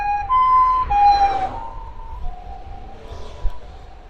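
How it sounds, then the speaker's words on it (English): An ambulance siren near a Japanese alpine wasabi farm wails loudly in repeating tones, then fades quickly as the vehicle passes, leaving a faint traffic rumble. "Universal ambulance siren"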